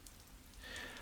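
Rain falls steadily in the video game Glory Hounds, a soft, faint, continuous patter with no voices over it.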